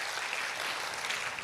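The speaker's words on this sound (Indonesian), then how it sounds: "Kasih tepuk tangan dulu yang luar biasa." A church congregation claps together in a brief, steady burst of applause, fairly quiet and diffuse, filling the short moment without any voices over it.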